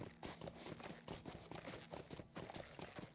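Horse hooves clip-clop steadily at a riding pace in the game LOTRO, a quiet, even rhythm of hoofbeats over a dense ambient game soundscape.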